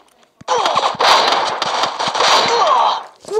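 Rapid bursts of video game gunfire during an online shooting match, loud and dense, with volleys of close automatic shots running almost continuously after a brief quiet start.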